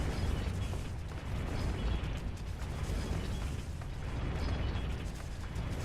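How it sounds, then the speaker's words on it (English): Swinging blade trap mechanism in the castle of Resident Evil 4, a dense, continuous mechanical grinding and clanking with repeated whooshing, rattling bursts, moderately loud and steady throughout. "those swinging blades will cut you to shreds and one-hit you"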